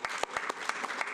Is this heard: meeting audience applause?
yes